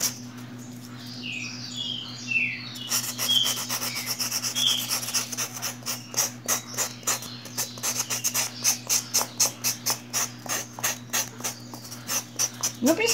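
A ball for a polymer clay apple is sanded by hand with steady rhythmic rubbing strokes, close and moderately loud, the strokes turning faster and more regular over time against a low background hum.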